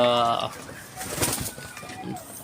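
Pigeons kept in a loft coo and call up close while someone talks over them.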